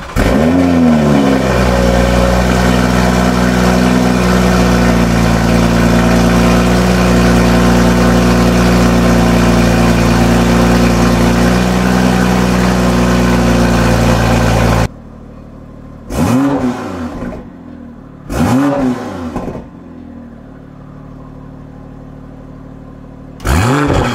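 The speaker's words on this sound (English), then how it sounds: "right now we're gonna do the sound check on the stock exhaust" A BMW M340i with stock exhaust idles loudly and steadily for a long stretch, then after it quiets comes a few sharp revs that rise and fall in bursts.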